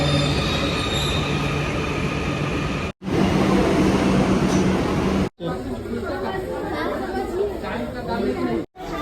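A metro train at a Kolkata station rumbles loudly, with metallic wheel squeal and constant crowd chatter around it, broken by a few abrupt cuts.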